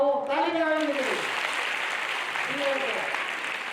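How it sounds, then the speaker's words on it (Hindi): Audience applause fills a Hindi motivational talk, a broad steady clatter running the whole stretch while a voice speaks over it at the start and again near the end. "ताली बजाएंगे मेरे लिए।"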